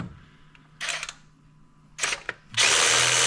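A DeWalt cordless power ratchet whirs in three short, close bursts, the last one longest and loudest, with quiet gaps between them and no talking.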